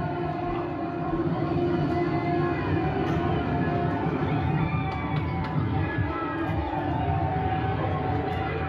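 Crowd cheering at a NASCAR Cup race at Texas after a victory, a loud, sustained roar filling the stands with a rising and falling wail through it, steady from start to finish.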